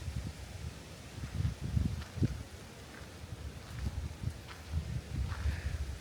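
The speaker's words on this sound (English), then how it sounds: "I just want you to hear this wind." Gusty wind in light snow buffets steadily against the microphone, rising and falling in low rumbling surges with no voices.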